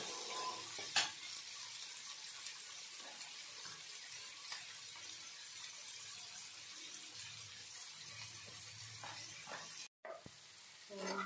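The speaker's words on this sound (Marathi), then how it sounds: "या पद्धतीने छान असा मसाला फ्राय झालेला आहे" Tomato masala with salt sizzles and crackles steadily in a pan while a spoon stirs and scrapes through it, with a brief clatter near the start and a short gap near the end.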